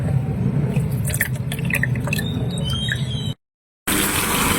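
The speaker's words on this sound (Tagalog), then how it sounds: "Hugasan natin ang ating enoki mushroom." Running water splashes over enoki mushrooms in a kitchen, with close, irregular drips and squeaky squishing as the clusters are rinsed, continuous for several seconds before a short gap.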